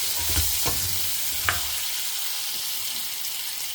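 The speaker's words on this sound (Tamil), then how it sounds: "கொஞ்சம் நேரம் சின்ன வெங்காயம் வதங்கிட்டு" Small shallots sautéing in a pan for vatha kuzhambu: a few scraping stirs at the start, then a steady, close sizzle continues on its own.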